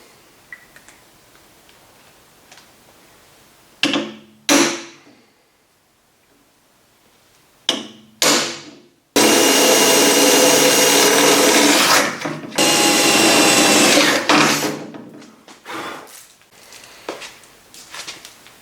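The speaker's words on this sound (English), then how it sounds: "Let's get to drilling." A power drill bores into a Ford Focus ST's interior, starting with a few short whirring bursts separated by quiet pauses and then running in two long, loud, steady stretches before winding down.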